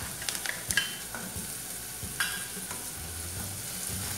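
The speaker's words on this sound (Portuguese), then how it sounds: "Agora vou acrescentar o alho." Garlic hits a hot pan and sizzles, a quiet steady frying hiss with a few clinks and scrapes of stirring, alone without voices.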